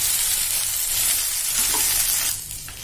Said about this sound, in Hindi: और ये भिंडी हम इसमें डाल देंगे। इसे धीरे धीरे हिलाकर हल्के हाथ से सेक लेंगे